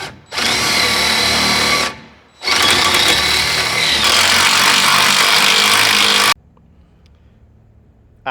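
A power drill whines loudly in two long bursts with a short pause between, pre-drilling holes for lag screws, then cuts off, leaving faint background hiss.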